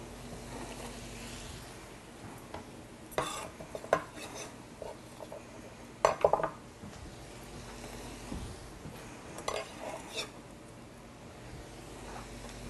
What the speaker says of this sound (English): Alright, let's get those apples in. I'm going to stir it around just slightly.